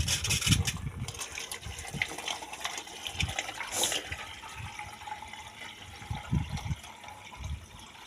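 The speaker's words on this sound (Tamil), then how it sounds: "இப்போ அதில் தண்ணி விட்டு நிரப்புறானாம்மா" Water splashes and gushes in uneven bursts as it is poured into a lunch bag to fill it, close by and fairly quiet, with no talk.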